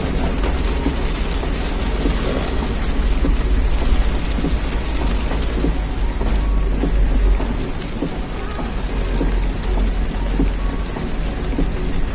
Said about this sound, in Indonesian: Lumayan deras hujannya.